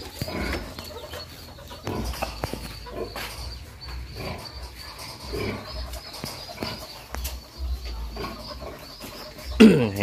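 Chicks in a new brooder house cheep and chirp steadily at close range, with scattered bumps and rustles throughout and a louder burst of peeping right at the end.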